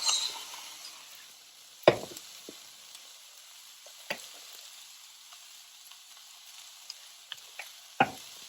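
Grape tomatoes added to a hot pan, giving a quiet, steady sizzle with a few sharp clicks and knocks of utensils against the pan, and no voices.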